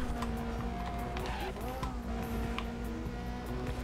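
A Ferrari race car engine in Need for Speed World roars steadily under faint tire noise, a continuous loud drone with slight pitch shifts from the game's racing.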